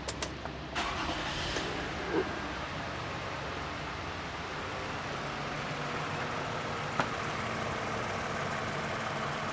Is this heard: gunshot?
no